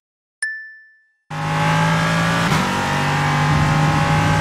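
A Ligier LMP3 race car engine in the sim racing game iRacing drones steadily and loudly after a short ding-like tone, holding a constant rumbling note with a slight shift midway.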